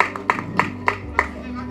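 Hands clapping at an audio launch event in a hall to welcome the next speaker, a few sharp evenly spaced claps under a voice talking over them.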